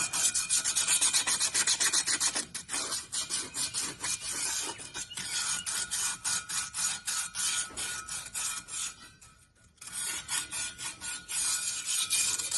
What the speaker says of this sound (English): Now let's get a little bit of 80 grit and do a little rubbing on it.